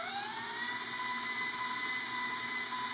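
An electric hand mixer whirs steadily as it blends sour cream and cream cheese for a clam dip. The motor's whine rises briefly as it spins up, then holds constant and moderately loud, with no talk.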